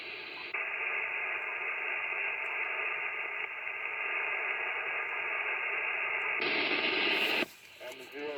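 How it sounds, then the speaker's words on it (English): A steady hiss and hum of a dead carrier fills an AM amateur radio channel on an Icom IC-7300. It holds for about seven seconds, changes tone briefly near the end and cuts off into quieter static, with no voice coming through. "You returned, and it was just a dead carrier again."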